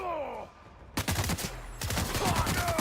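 Rapid bursts of gunfire crackle in a video game set in Halcyon, two dense volleys of shots close by, the first after a quiet start and the second continuing to the end.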